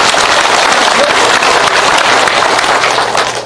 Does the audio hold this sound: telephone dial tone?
no